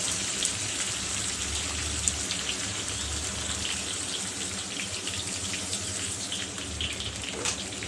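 Water is poured into a simmering bean curry to make gravy, a steady splashing patter that runs continuously and evenly at moderate loudness, with no voices.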